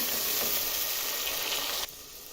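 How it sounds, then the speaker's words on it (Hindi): Tomatoes sizzling as they hit hot oil in a pan, a loud, bright crackling hiss close by that drops abruptly to a quieter fry near the end. "ऑयल गरम हो चुका है तो अब हम इसमें डालेंगे टमाटर।"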